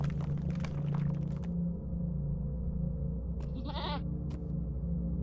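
A goat bleats in the video game Lord of the Rings Online, a short wavering cry near the middle, set over a steady droning game ambience with some earlier clicks.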